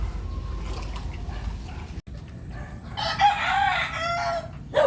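Pet chickens and a rooster at a flooded yard in the Philippines, with soft clucking throughout and a loud crow rising in the second half, close by amid low background rumble.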